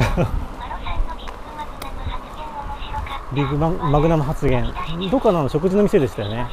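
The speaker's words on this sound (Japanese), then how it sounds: "あ、今カエルの声か。" Frogs call outdoors near a roadside rest stop on a bicycle trip, giving a chorus of warbling, voice-like croaks in the second half, mixed with someone talking close by.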